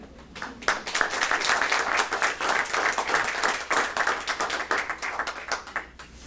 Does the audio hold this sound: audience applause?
yes